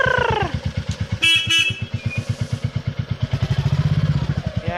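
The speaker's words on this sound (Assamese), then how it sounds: "এয়া বাইক এতিয়া আমি ঘৰত সোমাই দিছোঁ।" A Royal Enfield motorcycle idles and rolls into a house, its engine thumping in a steady, loud, close rhythm, with a short honk early on and some clatter.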